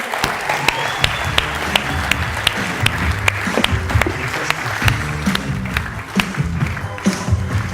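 Audience applause welcoming comedian Ian Daly to the stage, a steady dense wash of clapping with sharp individual claps standing out throughout, sustained at full strength for the whole stretch.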